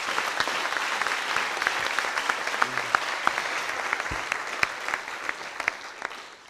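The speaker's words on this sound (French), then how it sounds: "On peut les applaudir." Audience at a round-table conference applauds steadily for several seconds, a dense wash of many hands clapping at moderate distance, fading toward the end.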